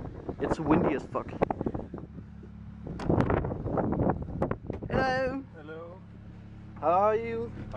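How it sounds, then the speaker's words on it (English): Gusty wind by a stream in a park blusters against the microphone in uneven low bursts, with people talking over it in between. "Okay, it's windy as fuck."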